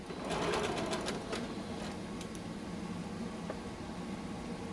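A sewing machine stitches a fabric face mask tube, a close, steady mechanical whir with a burst of rapid needle ticks at the start, running on continuously and fairly quietly.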